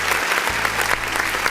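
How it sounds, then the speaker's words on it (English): An audience applauds steadily during a talk-show interview on a sofa set, dense continuous clapping from a small crowd, fairly loud and close, without a break. "we got a little clapping going on, Terisa"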